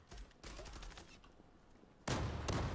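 Gunfire in the Zula online shooter: rapid bursts of shots, one at the start and a louder, denser burst near the end, with no talk over them.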